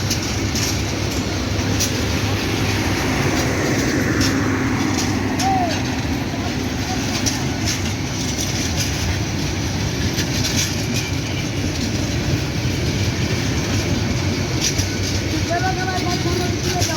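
Kurigram Express passenger train bound for Dhaka, with passengers riding on the roof, runs along the rails in a steady, loud, continuous rumble and rattle of wagons that lasts the whole stretch.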